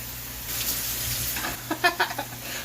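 Cheesesteak meat cooks slowly in a pan with a soft, steady sizzle, then a few brighter pops and crackles come near the end.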